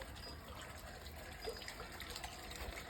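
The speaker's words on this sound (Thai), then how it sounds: "ก็จะได้ยินเสียงน้ำพุ" Steady splashing and trickling from a garden water fountain, a constant wash of water close by with no talking.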